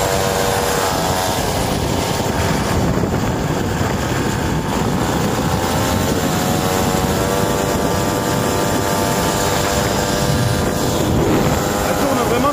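An orange Motobecane moped engine runs steadily while riding home. The buzzing, revving drone is loud and constant, with heavy wind noise, and someone talks over it.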